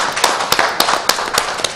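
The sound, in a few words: audience clapping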